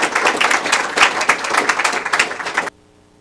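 Brief burst of audience clapping at a town council meeting, lively and uneven with individual claps standing out, cutting off abruptly into near silence.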